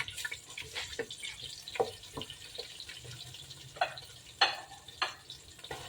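Garlic fries in a pan at the start of a beef and broccoli stir-fry, soft sizzling under clinks and scraping stirs, fairly quiet and close with occasional sharper spatters.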